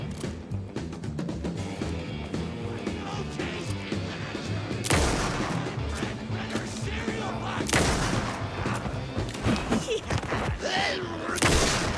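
Repeated gunshots and heavy booming weapon fire from the survival horror video game Alan Wake 2, dense and loud bursts over a busy game soundtrack, with sharp blasts around the middle and near the end.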